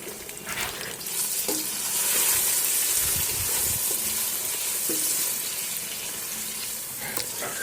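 Onions and ingredients for chana pulao fry in a pan on a home stove, giving a steady close sizzle and hiss with a few soft stirring scrapes, no talking over it.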